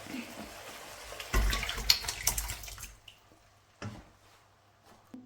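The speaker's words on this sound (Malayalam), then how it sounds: "ഈ സമയത്ത് നമുക്ക് പരിപ്പ് വേവിച്ചത് ഒഴിക്കാം" Cooked lentils pour into a pot in a short, splashy burst, with a few softer splashes and clinks following.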